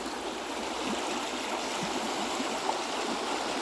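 A shallow, low-running stream flows through a forest, a soft steady wash of trickling water heard faintly and continuously, without voices.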